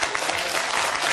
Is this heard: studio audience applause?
yes